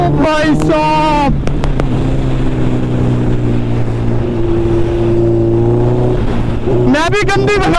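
Suzuki Hayabusa motorcycle engine droning and rising in pitch as it accelerates hard, steady and loud with wind buffeting, while voices talk over the start and end.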